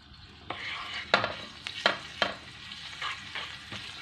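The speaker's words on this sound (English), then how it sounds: "Fry until golden brown." Garlic frying in a pan until golden brown, a steady crackling sizzle punctuated by several sharp scrapes and taps of a utensil stirring, close and quiet.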